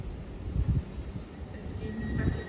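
ScotRail passenger train from Edinburgh Waverley to Aberdeen arriving at Haymarket station, a low steady rumble of wheels and engine with a faint high tone, heard from the platform without talk.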